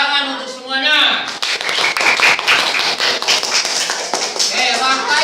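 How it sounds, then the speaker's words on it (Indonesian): Children clapping their hands together in a classroom, a dense burst of quick claps that starts after a brief stretch of voices and carries on with chatter mixed in. "Oke, tepuk tangan untuk semuanya."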